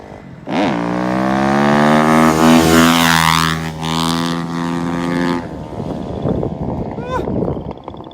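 Kawasaki KX 250F four-stroke dirt bike engine revving hard and loud as the rider pulls a wheelie, pitch climbing and holding high for several seconds before dropping to a rougher idle with some background noise.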